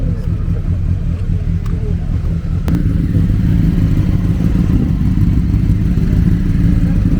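Motorcycle engine idling and rumbling steadily close by at a Triumph bike night, with a brief rev and a sharp transient near the middle, continuous loud low engine tone throughout.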